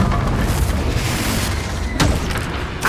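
Spell blasts in Hogwarts Legacy, including a Bombarda explosion, come as a dense run of booming impacts and crackles. A sharper burst lands near the middle, and the combat noise stays loud and continuous throughout.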